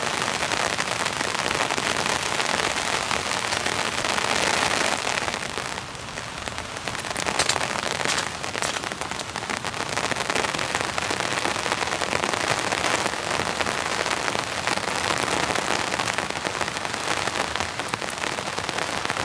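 Heavy rain pours onto a camping tarp and tent during a storm, a dense, loud, steady patter close by that barely lets up, with no voices.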